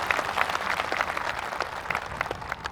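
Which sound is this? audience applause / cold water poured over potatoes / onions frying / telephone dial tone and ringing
audience applause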